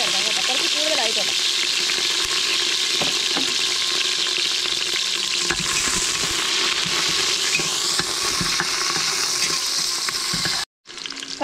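Green chillies sizzle steadily in hot oil in a pan for Kerala mutton biriyani, a loud, continuous crackling fry with occasional stirring scrapes, cutting off briefly near the end.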